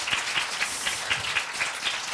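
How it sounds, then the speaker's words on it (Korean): An audience applauds a speaker at a Korean staff speech competition final, moderate scattered clapping from a crowd, even and somewhat distant, with no talking. "박수 한번 안 주시나요?"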